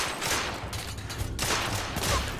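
Auto rifle fire in The Order: 1886 crackles in dense, rapid bursts, loud and close, with overlapping shots and echoing reports through the whole stretch.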